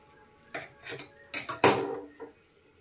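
A knife cuts bitter gourd into thin pieces on a board, giving a handful of separate sharp taps and clacks in an irregular rhythm, close and fairly quiet, with silence between strokes.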